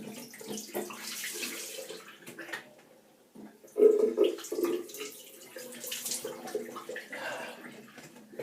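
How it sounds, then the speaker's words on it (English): Cold tap water runs as a cloth is rinsed under it at a sink, a steady splashing flow with a louder burst of gushing and wringing midway, fairly close. "There we are, gave my cloth a quick rinse as well."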